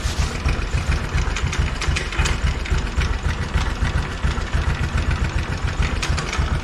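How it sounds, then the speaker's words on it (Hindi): An Aprilia SR 150 scooter engine idles while low on engine oil, with a steady, close, rough chugging and a rapid knocking rhythm, alone and with no talking. "अभी मेरा नॉइस इसीलिए ऐसा है क्योंकि इंजन ऑयल ना काफ़ी कम है"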